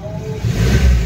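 A Suzuki Baleno's engine revs up on the accelerator, a close mid-pitched rumble swelling louder in the second half of a short burst.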